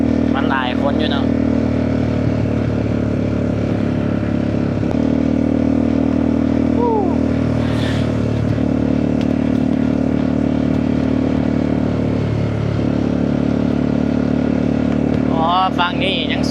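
A motorcycle rides steadily along a riverside embankment by the Mekong, its engine humming close and continuous, with brief shifts in pitch as speed changes and a voice talking over the ride at times.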